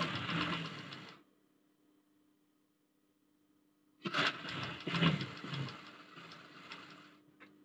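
A sewing machine stitches boys' school uniform shorts in two rattling bursts, about one second and then about three seconds long. A near-silent pause separates them, and no one speaks.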